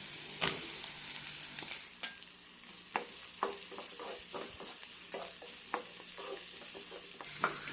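Onion sizzles in a pan with ginger, garlic and green chilli while it is stirred for a potato curry. The frying hiss stays steady under repeated sharp scrapes and clacks of a spoon against the pan, and no one speaks.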